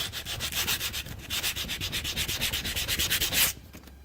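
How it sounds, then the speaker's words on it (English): Sandpaper rubbed by hand over a cracked dashboard on a Toyota AE86, a loud, close rasping scrub in a steady back-and-forth rhythm that stops abruptly near the end, with no voices. "You're going to take some sandpaper."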